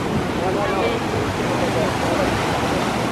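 Sea waves swirl and wash along a rocky coastline in a steady, loud, continuous rush, with wind buffeting the microphone throughout.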